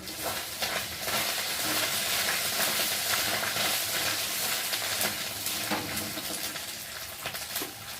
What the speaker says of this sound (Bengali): আর দিয়ে দেবো জিরে দিয়ে একটু ভালো করে ভেজে নেব।